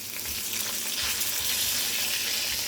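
Fish and shrimp fry in hot oil in a pan, a steady close sizzle with soft scraping and stirring knocks as the pieces are turned, no voices present.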